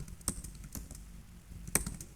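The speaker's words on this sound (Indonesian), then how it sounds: "akan saya tunjukkan bagaimana ngetik 4 baris ini cepat" Keystrokes on a computer keyboard during a ten-finger touch-typing lesson: a few sparse, distinct clicks close to the microphone, with quiet gaps and no voice.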